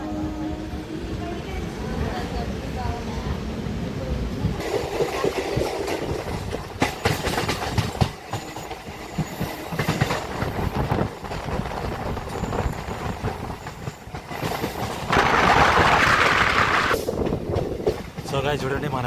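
An MMTS local train on the Lingampally to Medchal line rolls on after leaving Bolarum station, recorded from on board: continuous loud rumbling and clickety-clack of wheels over rail joints, with a brief brighter hiss near the end.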